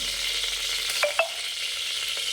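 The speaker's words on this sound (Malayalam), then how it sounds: "എണ്ണ ഒഴിച്ച് കടുക് ഇടുന്നു. 1 സ്പൂണ് കടുക്, 1 വറ്റൽ മുളക് രണ്ടായിട്ട് കീറിയതൂടെ ഇടുന്നു" Mustard seeds and a split dried red chilli fry in hot oil, a steady soft crackling sizzle with a couple of sharp pops near the middle.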